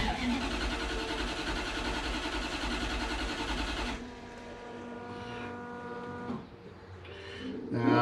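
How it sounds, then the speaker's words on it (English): A Toyota FJ40 Land Cruiser fitted with a 1UZ engine cranks over steadily for a compression test, a loud continuous whirr for about four seconds before it stops and a softer hum carries on. "We're doing the audible compression test."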